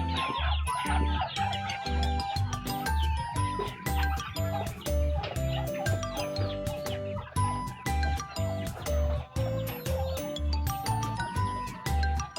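Backyard chickens cluck close by while being handed a small portion of feed, their calls scattered over a repeating low rhythmic pulse and light metallic tinkling.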